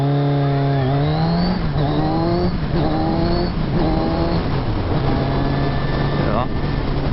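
A Kawasaki Z1000R motorcycle accelerating through the gears, its engine note rising in repeated climbing sweeps between shifts, close and loud with steady wind rush and a voice talking over it.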